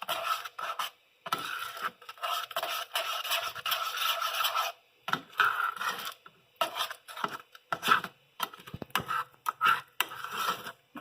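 Homemade green playdough is stirred in a pot, a spoon scraping and rasping against the thickening dough and pot sides in repeated short gritty strokes, close up and fairly quiet, with brief pauses between.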